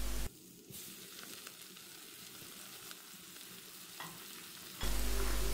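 Boiled red amaranth greens sizzle and hiss in a hot pan as they are stirred and cooked, a steady close frying crackle with faint clinks, bracketed by brief louder bursts at the start and end.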